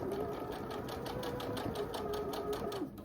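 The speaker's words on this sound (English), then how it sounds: "I'm going to go ahead and sew all of these seams, lining them up." A sewing machine stitches seams on a Monkey Wrench quilt block, running in a fast, even mechanical rhythm close by and slowing to a stop at the end, with no voices.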